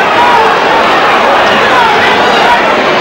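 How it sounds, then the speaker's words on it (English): Boxing crowd at a Thomas Hearns v Michael Olajide fight filling the arena with a steady wash of derisive whistling and booing, a few shrill whistles rising above the continuous roar. "some derisive whistling and booing going on"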